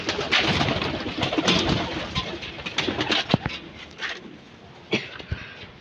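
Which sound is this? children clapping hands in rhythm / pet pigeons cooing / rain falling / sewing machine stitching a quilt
pet pigeons cooing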